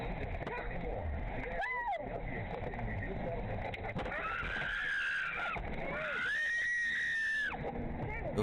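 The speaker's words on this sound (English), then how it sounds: "Those are some genuine screams." A woman screams in long, rising wails over a rough, noisy background, with several drawn-out cries in a row.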